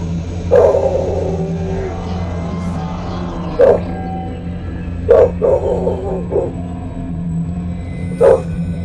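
A dog barks several times at irregular intervals, sharp and fairly close, with quiet gaps between the barks.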